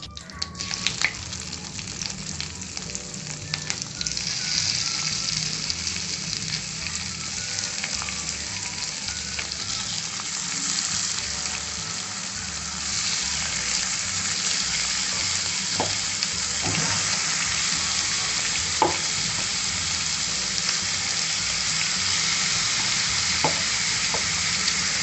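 Marinated chicken for butter chicken masala fries in a kadai with a steady, dense sizzle and occasional stirring clinks, close and continuous throughout.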